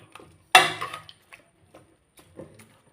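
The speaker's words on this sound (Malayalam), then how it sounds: "ഇത് നന്നായിട്ട് ഉടച്ചു കൊടുക്കാം." Cooked raw papaya is mashed inside a pressure cooker for a Kerala-style curry, a sharp metallic clank from the utensil striking the pot followed by a series of softer, scattered taps and scrapes at close range.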